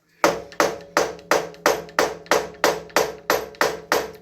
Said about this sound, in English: Hammer that in, so we got a nice little ring right there.